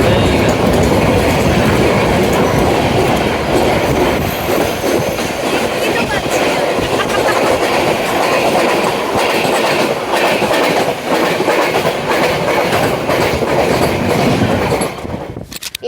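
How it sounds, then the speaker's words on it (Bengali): A Kanchanjangha Express train pulls away from a station after a long halt and rolls along the rails, its steady rumble and clickety-clack loud and continuous throughout, easing off only at the very end. "ট্রেন কিন্তু ছেড়ে দিল"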